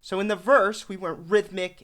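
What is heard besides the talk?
No distinct noise like a dog, phone or traffic.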